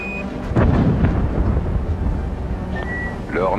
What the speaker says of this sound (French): Le Hornet a signalé le banc caractéristique d'un objet passant le mur du son.